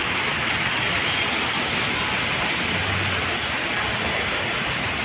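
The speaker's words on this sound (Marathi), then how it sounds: "अर्धा तास असाच पाऊस आहे" A downpour in Pune, ongoing for half an hour under a full sky, makes a continuous loud hiss and roar of falling rain, close and unbroken, with no one speaking.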